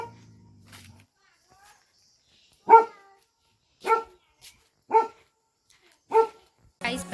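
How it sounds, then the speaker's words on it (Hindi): A dog barks in a series of sharp, separate barks spaced about a second apart, fairly close, with brief low background noise at the start and no talk over it. "तो रैंकू भी भौंक रहा है"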